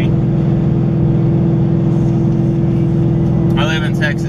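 Steady engine and exhaust drone from a 2015 Mustang GT with a Stainless Works exhaust cruising at about 80 mph, a constant low hum with road noise throughout and a brief voice near the end.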